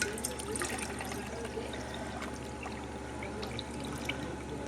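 Luffa water pours through a cheesecloth-lined fine mesh strainer, a soft, continuous trickle and splash with small drips, fairly faint and close, steady throughout.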